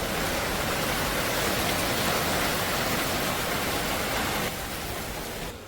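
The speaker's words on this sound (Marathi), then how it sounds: "एवढा जोरात पाऊस आला" Heavy rain pours steadily as a dense, loud roar, easing slightly near the end.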